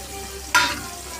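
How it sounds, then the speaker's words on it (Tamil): Soya chunks sauté in a pan with chili powder, coriander powder and chicken masala, a soft steady sizzle broken by a single brief scrape of stirring, close and without talk. "நல்லா வதக்கி விட்டுடலாம்"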